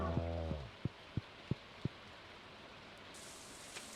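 Soft, steady rain pattering on a surface in the video game Stardew Valley, a faint continuous hiss with a few short soft taps early on.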